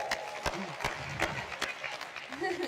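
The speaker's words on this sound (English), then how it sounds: "So round of applause for Melissa for that too" A meeting audience gives a short round of applause, a few distinct nearby claps over a lighter crowd wash, with a voice and some cheering mixed in.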